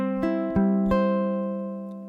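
Close, solo ukulele in a beginner Travis-picking pattern: three distinct plucked notes in steady succession, each with a crisp attack, ringing together and decaying slowly into a sustained chord.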